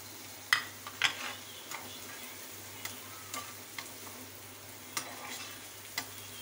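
Green chilies frying in a pan for a home breakfast, a soft sizzle broken by faint scattered clicks and scrapes of stirring, quiet and close.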